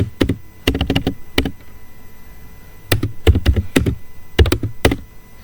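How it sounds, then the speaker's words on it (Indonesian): Typing a command on a computer keyboard while configuring a Cisco router: three bursts of crisp, close key taps in quick runs, separated by a short pause, with no talk. "Lalu kita ketik show IP."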